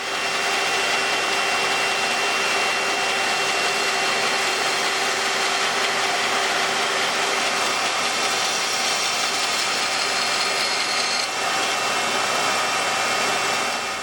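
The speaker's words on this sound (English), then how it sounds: "a completely straight cut done on the bandsaw" A band saw cuts a straight line through a board of wood, giving a loud, continuous motor whine with a steady rushing hiss from the blade that barely changes throughout, with no talking.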